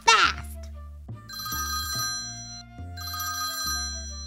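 A telephone rings in a Minecraft animated story, its bell repeating in two loud bursts with a low steady hum underneath.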